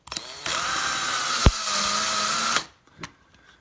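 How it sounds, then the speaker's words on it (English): A power drill drives a self-tapping screw straight into a plastic mounting click for electronics, whining steadily for about two seconds with a sharp click partway through, then stopping abruptly, followed by a short faint mechanical rattle. "You just drive them straight into the click."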